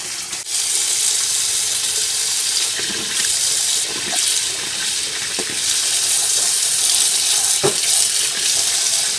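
Water running hard from a tap nozzle into a filling sink, a steady loud gush with a few splashes and clunks, and no voices over it.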